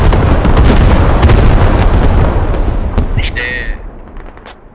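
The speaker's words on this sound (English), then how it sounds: "There's an airstrike incoming" Airstrike explosions rumble through a battlefield in the military shooter Squad, a dense loud barrage of booms and blasts with sharp cracks, gradually fading toward the end.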